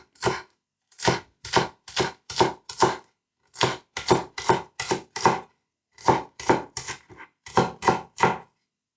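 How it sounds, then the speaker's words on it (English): A knife chops green onion on a cutting board in quick bursts of sharp, close taps, about four to five strokes per burst with short pauses between, and no talk over it. "I'll start by chopping a little bit of green onion to taste"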